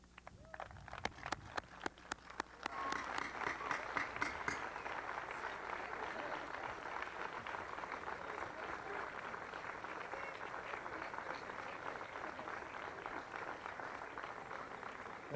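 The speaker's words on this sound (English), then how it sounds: "If you would stand now and applaud your parents for me" A few scattered claps at a 1991 USC high school graduation swell into broad, sustained applause from the graduates honoring their parents, a dense steady crowd clapping that continues to the end.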